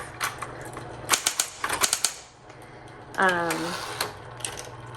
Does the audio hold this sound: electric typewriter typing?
yes